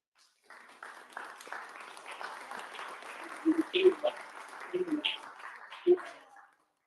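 An audience at a Ghana Independence Day event claps for young people heading to Africa, a scattered round of applause building after a quiet start with voices mixed in, then fading out.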